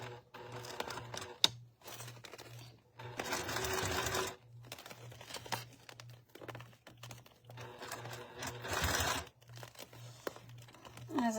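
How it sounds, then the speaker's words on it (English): Sewing machine top stitching clear vinyl, bursts of rapid mechanical needle clatter separated by pauses with a steady low hum throughout, close and fairly quiet. "So we are going to top stitch."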